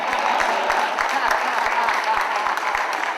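Steady applause from an audience at a political speech event, dense and even for a few seconds, with crowd murmur underneath.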